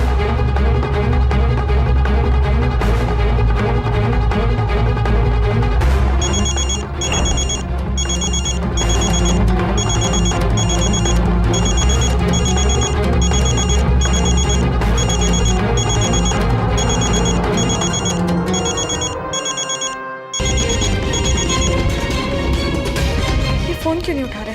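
A telephone rings repeatedly in a steady electronic pattern, loud and continuous, with music and voices underneath, then cuts off near the end.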